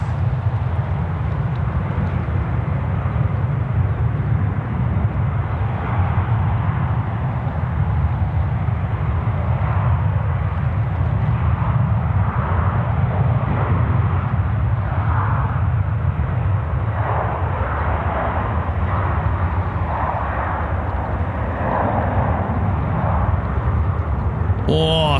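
An airliner departing Sydney Airport on the Bengaluru service sends out a sustained, moderately loud rumbling jet roar that persists evenly for the whole stretch.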